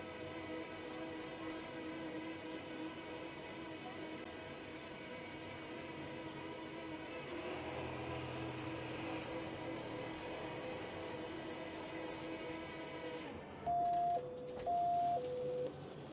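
A public wheelchair lift at a building entrance in Lviv lowers its protective barrier. A steady mechanical motor hum runs throughout, and near the end a few loud electronic warning beeps sound in an alternating two-tone pattern.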